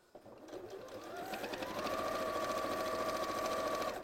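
A sewing machine stitching jacket fabric nearby, its motor whirring up to a steady fast rattle that holds for several seconds without interruption.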